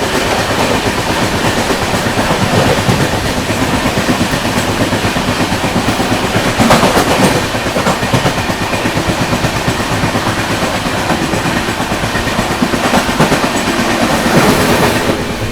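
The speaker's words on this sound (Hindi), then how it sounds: "हम लोग ओवरटेक करने जा रहे हैं मेरठ सिटी सूबेदारगंज संगम एक्सप्रेस। ओवरटेकिंग संगम एक्सप्रेस" Suhaildev Superfast Express running at speed while overtaking the Sangam Express, heard from inside a first AC coach: loud continuous rumble with rhythmic wheel clatter over rail joints and brief bursts of passing-train noise.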